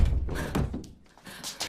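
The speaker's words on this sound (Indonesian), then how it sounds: "dia dikagetkan dengan suara pukulan di pintu" Sharp knocks on a door in a film scene, a cluster of heavy thuds near the start followed by quieter bumps and rustle, with no talking.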